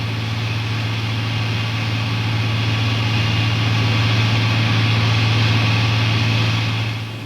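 F-110 twin jet engines with afterburners, a steady, loud roar with a strong low hum, holding constant for several seconds before easing off slightly at the end.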